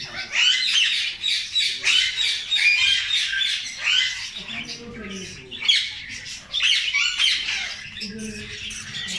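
Parrots in a breeding aviary, including lutino red-eyed personata lovebirds, squawk and screech in dense overlapping bursts, loud and near, with a voice briefly underneath.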